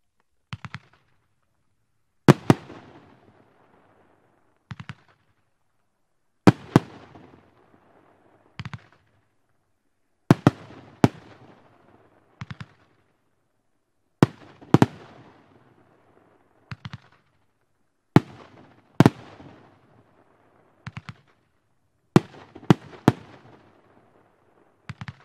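A Bison category F3 firework battery fires shot after shot, sharp loud bangs popping at irregular intervals of a few seconds, each followed by a brief crackling tail, over near silence.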